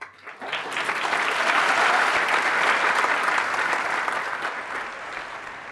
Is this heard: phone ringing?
no